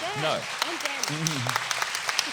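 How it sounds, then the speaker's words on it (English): Audience applause at a book festival panel on justice, a steady wash of clapping with a few sharp individual claps standing out, while voices talk over it throughout. "A round of applause for these incredible people."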